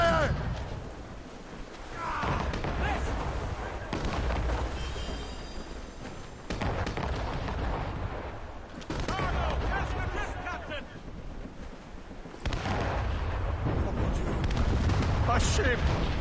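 Ship cannons from the brig Morgan boom repeatedly during a naval battle in Assassin's Creed Rogue, heavy blasts recurring in bursts amid battle noise, with voices shouting over the fighting.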